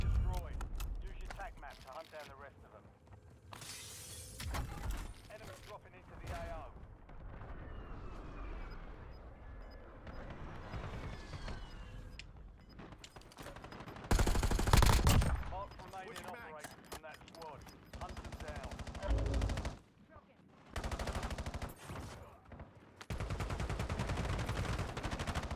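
Gunfire in an online shooter game, with bursts of rapid automatic fire and single shots mixed with other game noise, loud and dense with many overlapping sounds.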